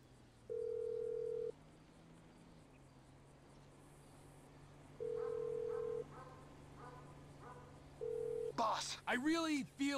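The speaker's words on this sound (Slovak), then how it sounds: "Máme mu zavolať? Zavoláme." A phone keypad is dialed in GTA V: three separate steady tones spaced apart over a low hum, then a voice starts speaking near the end.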